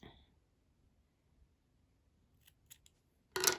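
Scissors snip crochet yarn close by on a Barbie doll summer top, a few soft clicks followed by one sharper cutting snip after near silence.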